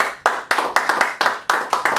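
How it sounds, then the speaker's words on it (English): A few people clap in unison at the end of a podcast, sharp, evenly spaced claps, about eight in a steady rhythm, close and loud in a quiet room. "Let's clap it up."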